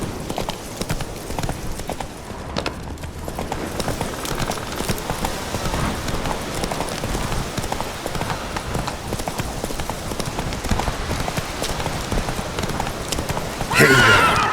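Geralt's horse Roach gallops in The Witcher 3, a loud, fast, continuous drumming of hooves close up with a brief snort or whinny, under light rain-like ambience.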